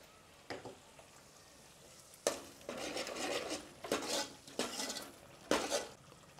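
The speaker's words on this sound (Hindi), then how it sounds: "पाए का स्टॉक डालकर मैंने धीमी आंच पर 4 से 5 मिनट तक मसाले को अच्छी तरह से भून लिया है" Masala for mutton paya sizzles in a pan with goat trotter stock over low heat, stirred in a series of distinct scraping strokes with a spoon, close and fairly quiet, with no talking.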